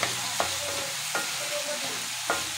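Green chillies fry in oil in a pan, a continuous close sizzle broken by three or four sharp stirring scrapes at a fairly even rhythm, with no talking.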